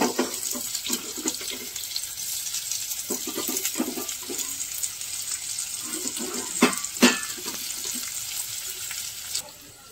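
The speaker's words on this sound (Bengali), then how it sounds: "তো এবার আলুটা ভাজা হয়ে গেছে, এখানে আমি পেঁয়াজ দিয়ে দিলাম।" Potato and onion frying in oil in a pan give a steady, close sizzling hiss, broken by occasional clinks and scrapes of stirring.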